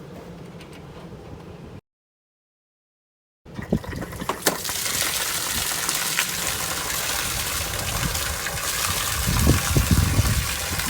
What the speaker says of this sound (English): by opening the pressure relief valve, it allows the water to come out a lot faster